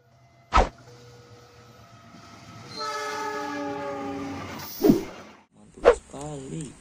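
A CC201 diesel locomotive passes with a sustained harmonic horn blast lasting a few seconds, framed by sharp clanks and short tonal bursts, plus rumble from the train.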